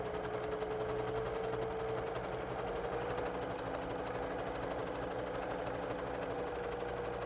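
Sewing machine stitching a quarter-inch seam runs steadily throughout at a fast even rhythm, fairly quiet and close, with no speech.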